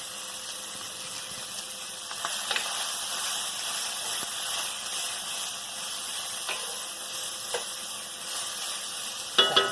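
A stir fry sizzles steadily in a hot pan, a constant soft hiss with occasional brief clinks and stirring scrapes, ending with a few sharper knocks.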